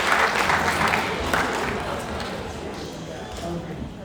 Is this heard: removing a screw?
no